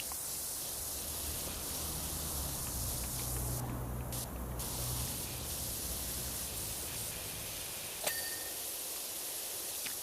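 Soap spraying from a pressure washer in PowerWash Simulator 2, a steady broadband hiss holding for the whole stretch, with a brief sharp tick near the end.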